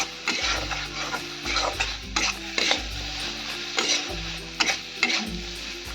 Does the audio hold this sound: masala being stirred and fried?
yes